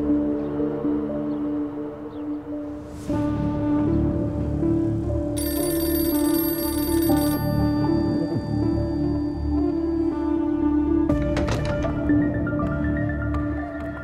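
A telephone rings steadily and loudly over a dense musical background, with a bright high tone entering midway.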